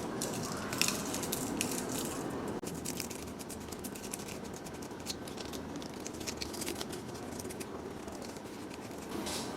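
Sandpaper wrapped around a brush scrubs the burr of an Ikea Upphetta French press, a steady dense abrasive scratching and rustling that runs continuously close up without pauses.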